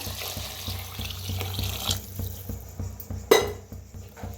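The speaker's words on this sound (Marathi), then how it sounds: "गरम पाणी करून घेतलं होतं तर ओतूया." Hot water poured into a cooking pot of spiced rice for masale bhat, a steady gushing stream for about two seconds, followed by quieter kitchen movement and a single sharp metallic clank.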